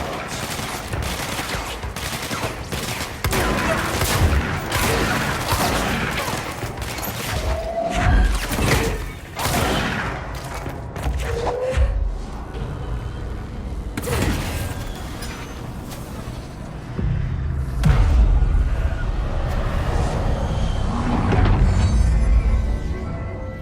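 Planted bombs going off in Control: repeated heavy blasts, crashes and bursts of rapid fire mixed with loud game music and effects, with deep booming impacts toward the end.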